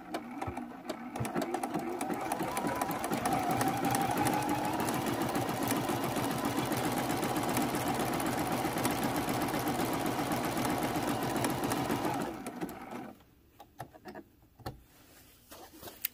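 A sewing machine stitches a generous throw-size quilt in a long, fast, steady mechanical run, then stops abruptly, leaving a few soft handling clicks and rustles.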